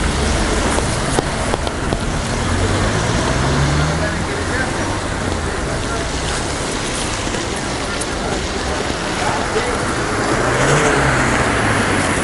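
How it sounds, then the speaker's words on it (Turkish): Steady traffic on a town's main street during Ramadan, a continuous broadband roar of passing cars with faint engine hum, heard from among the vehicles without pause. "Her taraftan araba geliyor."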